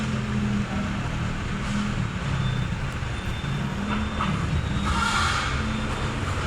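Steady street traffic near a bus stop by Timog Avenue in Quezon City, with a continuous low engine rumble from passing cars and buses and a louder vehicle swelling past near the end.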